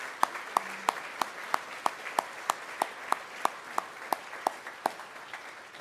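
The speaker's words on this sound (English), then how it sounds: "a round of applause for our Sports Hall of Fame board members" Evenly spaced claps ring out in a steady rhythm at a sports hall of fame ceremony, about a dozen and a half, fairly light and without any voices.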